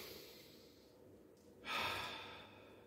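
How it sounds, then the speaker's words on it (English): One deep breath drawn in with a soft airy hiss that swells and then fades gently, close and quiet, with no talking over it. "take a deep breath"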